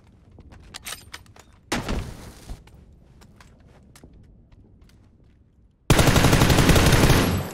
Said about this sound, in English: I'm getting shot by like multiple teams